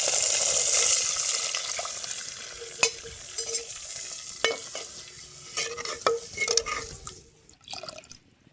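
Tomato juice poured into a hot frying pan with curry leaves gives a steady close sizzle that fades over time, broken by sharp clinks and scrapes of a spoon stirring the pan.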